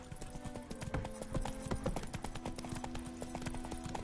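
Roach, Geralt's horse in The Witcher 3, galloping in quick, even hoofbeat clusters over a low background drone, close and steady with no clear speech.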